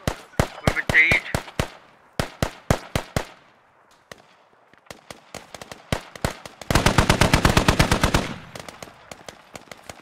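.50 caliber machine gun fire in the Squad video game during a base defense, loud single shots in steady rhythm, then a long rapid sustained burst, with distant gunfire between.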